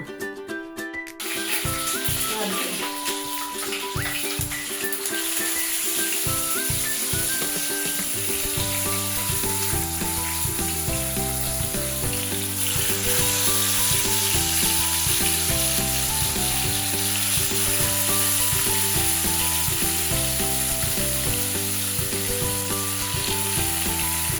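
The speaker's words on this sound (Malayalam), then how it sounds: "നമുക്കിനി മീൻ ഓരോന്നായിട്ട് ഇട്ട് കൊടുത്ത് വറുത്തെടുക്കാം" Sardines fry in hot oil with a loud, constant sizzle and spitting, while music plays steadily underneath the whole time.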